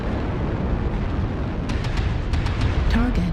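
A destroyed target explodes in MechWarrior Online, a loud sustained rumbling blast that fills the whole moment, with a few sharp crackles and a short electronic tone near the end.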